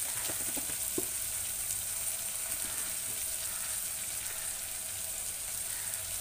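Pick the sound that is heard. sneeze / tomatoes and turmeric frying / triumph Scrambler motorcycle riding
tomatoes and turmeric frying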